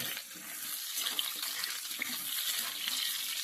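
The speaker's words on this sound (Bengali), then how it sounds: "পটলগুলো দিয়ে আমি পটলগুলোকে একটু ভালো করে ভেজে নেব" Pointed gourd (potol) pieces frying in oil in a pan for a vegetarian curry with bori, a steady broadband sizzle with scattered crackles and faint stirring, close and continuous throughout.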